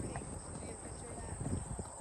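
Horses clip-clop along near Deep Creek Lake, hooves thudding faintly and irregularly under a steady background hiss, with a person talking nearby.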